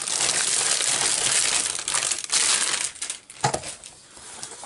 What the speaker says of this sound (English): excuse the noise because I'm opening the bag